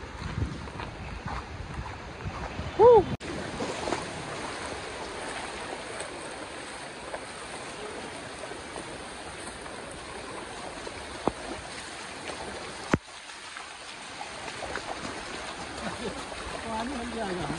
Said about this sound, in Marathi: फुल फुल पाणीचा फोर्स बघा आणि पाणी बघा खूपच आहे